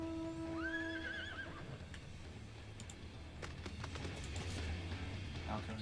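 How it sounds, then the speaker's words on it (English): A horse mount in Final Fantasy XIV: Heavensward gives a single rising whinny in the first seconds, over steady in-game ambience and chimes, with people talking during the gameplay. "You got your horsey right there."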